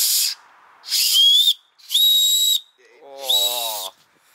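A person whistling four short high-pitched notes in a row, each lasting about half a second with brief gaps, the last one wavering, clear and close with no talk.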